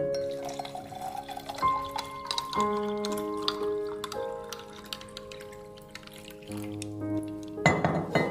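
Water poured from a glassful into another glass holding two spoonfuls of powder for a summer sabja drink, a steady close trickle with rising tonal ringing as the glass fills and a few light clinks.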